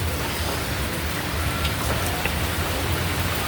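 Heavy rain pours steadily and loudly as a dense, continuous hiss with no breaks, close by and with no voices over it.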